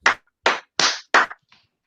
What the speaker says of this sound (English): 2 claps.